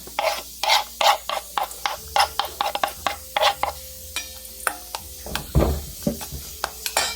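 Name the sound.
mixing kinilaw ingredients: onion, ginger, chili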